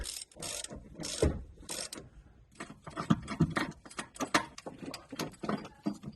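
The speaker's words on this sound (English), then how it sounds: "A 14mm socket to drive it." A ratchet turns a 14mm socket on a bolt during timing belt work on a Toyota 3MZ-FE engine, giving quick clicking bursts in short, uneven runs, close and fairly quiet.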